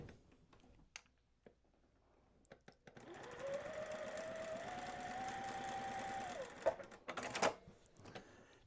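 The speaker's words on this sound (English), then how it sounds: "Let's take it over to the sewing machine." A sewing machine stitches fabric, likely quilt block pieces, in one steady burst for a few seconds, a fast mechanical whir, with a few clicks and handling noises before and after.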